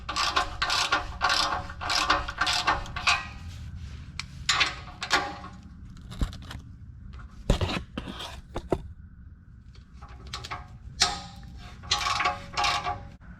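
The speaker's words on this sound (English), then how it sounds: "Now I'll take my 14mm socket, my wrench, break those bolts free." Ratchet wrench with a 14mm socket breaking bolts loose on a Lexus GX470 exhaust Y-pipe: bursts of rapid ratchet clicking with pauses between, plus a few sharp metallic knocks, close and fairly loud.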